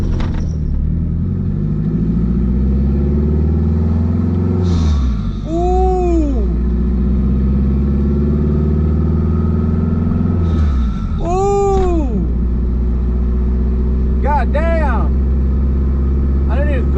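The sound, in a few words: turbocharged K24 Honda hatchback driving and accelerating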